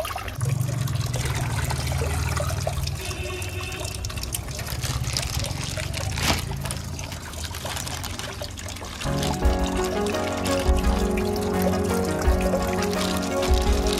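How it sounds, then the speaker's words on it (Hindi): Water pours steadily into a home fish tank, a continuous trickling and splashing stream that shifts in tone partway through, close and fairly loud with a voice briefly audible. "पानी कम हो गया क्या, आज डालता हूँ।"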